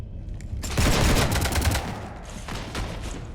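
Sustained rapid gunfire in the Mass Effect 3 video game, a dense loud burst of overlapping shots with booming low impacts that tapers into scattered shots, no voices heard.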